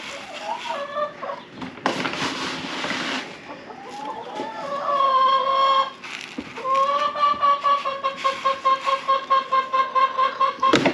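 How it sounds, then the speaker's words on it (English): Chickens clucking and calling close by, a busy mix of rising squawks and rapid repeated clucks, with no talking. "My other chickens hear the feed bag and are very interested."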